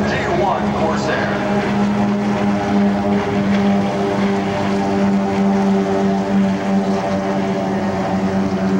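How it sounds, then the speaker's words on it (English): A propeller-driven FG-1 Corsair warbird passes at an airshow with a loud, steady droning engine roar throughout, while an announcer talks over it. "Mr. Terry Rush's beautiful FG-1 Corsair."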